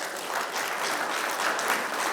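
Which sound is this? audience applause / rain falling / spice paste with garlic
audience applause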